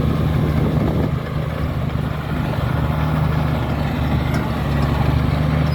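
A 20-ton Komatsu D83E bulldozer with a six-cylinder, non-turbo engine runs in a dusty work setting, giving a steady, heavy low rumble with a constant drone throughout and no voices.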